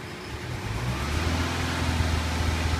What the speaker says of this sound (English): you can hear the engine now running a lot higher